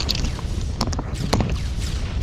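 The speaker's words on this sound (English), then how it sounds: "explosions happening as if the level should be over, but it's not" Explosions in the side-scrolling action game Broforce: a few sharp, booming bursts erupt over a dense, constant wash of game noise.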